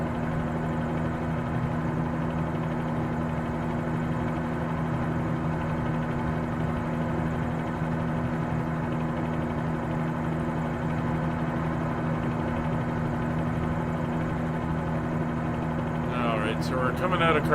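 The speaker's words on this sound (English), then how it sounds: "You can hear the blades thumping as I change the disc angle." Inside a flight simulator game, a Bell 47G helicopter's rotor blades thump steadily beneath a continuous engine drone. The sound stays constant and close, and a brief patch of other noise comes in near the end.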